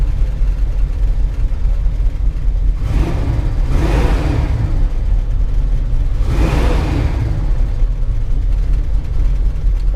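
A 1972 Chevy Nova SS engine idles steadily, then revs up twice in strong, loud swells about three seconds apart before settling back to idle.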